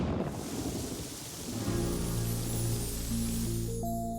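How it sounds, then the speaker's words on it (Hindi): Heavy rain with thunder pours down in a steady, dense roar; partway through, sustained musical tones rise over the storm. "बारिश जोरों से हो रही थी"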